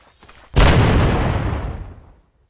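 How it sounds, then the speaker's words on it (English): A C4 charge detonates in the PSP game Ghost Recon Advanced Warfighter 2: one sudden loud blast with a broad rumbling tail that fades over about a second and a half, no talk. "Use the R to detonate C4."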